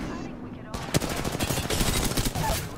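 Rapid automatic gunfire in the video game Apex Legends, a dense burst of shots starting suddenly and continuing in quick, uneven volleys, loud and close, as if the player is being hit.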